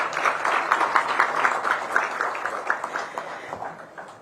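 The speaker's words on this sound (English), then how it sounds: "may I request for another applause for the Honorable Minister" Audience applause for the Honorable Minister at the launch of Bharat NCAP, the Bharat New Car Assessment Program, in New Delhi: a steady crowd of hands clapping that gradually thins and fades over a few seconds.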